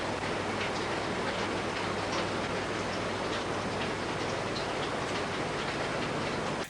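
Dense steady rain patters loudly and evenly on surfaces, a constant wash of drops with no voices.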